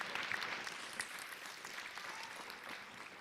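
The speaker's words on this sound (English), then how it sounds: "Let's give another round of applause for all of our class of 2022." A graduation audience gives the high school class of 2022 a steady wash of applause, faint and distant, with no talking over it.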